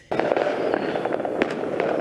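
Rapid, irregular bangs and pops crackle continuously, a dense burst of fireworks and gunfire heard from some distance at midnight in a Houston street.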